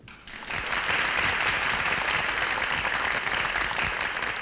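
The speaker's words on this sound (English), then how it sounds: "Listen to the audience applaud." A theater audience bursts into applause for a ventriloquist's dummy act in a 1964 horror film, the clapping swelling after a brief moment and holding as a steady, dense roar with no talk over it.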